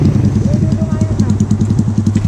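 A motorcycle engine idles close by in a steady, even putter, its rapid firing pulses repeating without a break at the edge of a friendly game.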